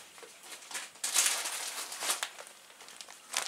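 A plastic bag crinkles and rustles in short bursts as a scarf is unpacked from it, close and fairly quiet, with brief gaps between handlings.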